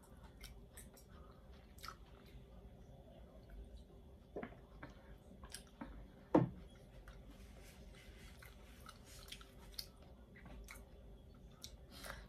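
Squid being eaten up close, with soft, steady chewing and wet squishing, a few sharper bites breaking through the quiet.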